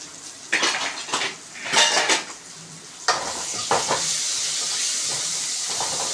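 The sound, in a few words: mixing spices in a pan with a ladle for vendhaya kulambu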